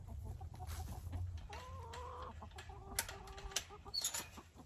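Chickens and a rooster clucking in a backyard coop, several birds close by with overlapping short calls and a brief higher squawk, over a steady low background hum.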